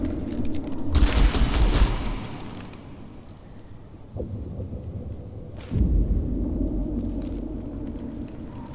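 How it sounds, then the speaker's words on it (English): Heavy booming gunfire in the Warhammer 40,000: Mechanicus strategy game, loud rumbling blasts with a big burst near the start and more roaring volleys later, heard alone with no talking. "just start shooting"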